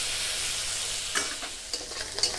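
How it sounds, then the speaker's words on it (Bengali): Shrimp fry in a pan with a strong, steady sizzle, broken by a few short scrapes as they are stirred and turned, close and with no speech. "উলট পালট করে একটু লাল লাল করে চিংড়ি মাছগুলোকে ভেজে নিতে হবে"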